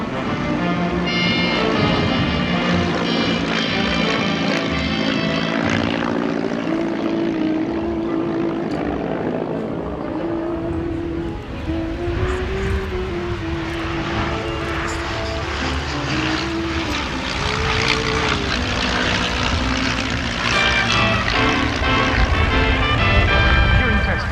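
A de Havilland Moth propeller biplane flies close by at a vintage Moth rally, its engine droning loud and steady throughout, pitch slowly wavering as it passes.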